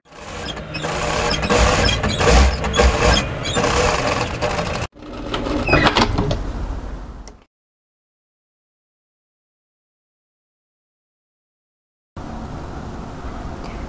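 A sewing machine runs a second row of stitching along folded sleeve hems of a turtleneck tunic, whirring loudly in two bursts before several seconds of silence, then a softer stretch returns.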